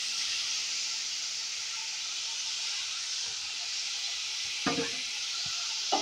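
Brinjal and tomato for badanekayi gojju fry in a pan with a continuous close hiss and sizzle, broken near the end by a few brief stirring clatters; no one speaks.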